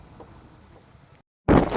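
Wind gusting on the Anaikatti mountain road, a steady soft rush of air that cuts out briefly and then returns as a loud, close buffet against the microphone, with no voices.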